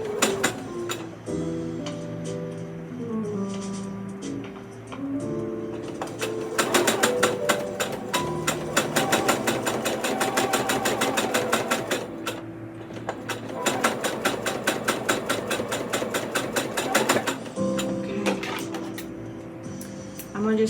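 A sewing machine stitches a quilted table runner, its needle ticking rapidly in a steady close rhythm that starts, runs for long stretches and briefly pauses.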